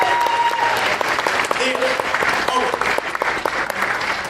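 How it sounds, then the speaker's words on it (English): A crowd applauds steadily throughout, with sustained clapping filling the room and some cheering or voices mixed in at a lively event honoring a photographer named Jorge Rodriguez. "Give him a round of applause."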